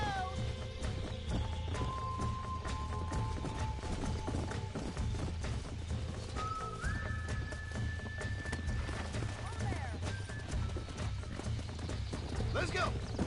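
A horse in the Red Dead Redemption video game gallops with steady, rhythmic clip-clop hoofbeats under a continuous game soundscape of music and ambience, while a person talks over it.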